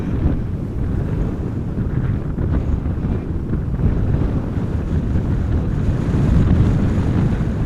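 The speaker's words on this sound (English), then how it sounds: "It is a little bit breezy." Steady, rushing wind buffeting the microphone outdoors at Amsterdam Schiphol Airport during crosswind arrivals, a continuous low roar with gusts swelling toward the end and no talking.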